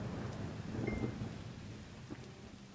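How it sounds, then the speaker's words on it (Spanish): Thunderstorm with steady rain from the Arcade Tycoon video game, a dense rain hiss with low rumbling thunder throughout and a brief crack near the end, no voices. "Para la tormenta, ¿no? Que hay en el juego."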